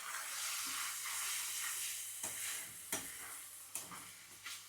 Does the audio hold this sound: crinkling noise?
no